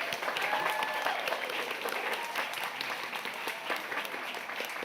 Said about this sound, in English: really a round of applause to everyone and the winners again